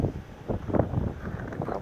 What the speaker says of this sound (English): I don't know if you can hear that wind on the outside howling.